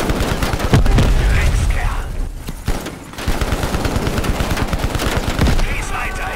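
Heavy gunfire in the first-person shooter Call of Duty: Black Ops Cold War, loud rapid bursts of automatic fire that hammer on, briefly ease for about a second, then resume in dense volleys.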